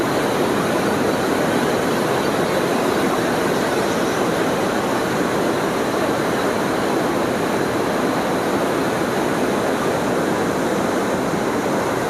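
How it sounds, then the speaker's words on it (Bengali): A train crosses the Farakka Barrage bridge over the Ganges, giving a steady, loud, continuous rumble and roar with no break from start to finish. "ফারাকা ব্রিজ থেকে যাচ্ছে ট্রেন দেখুন"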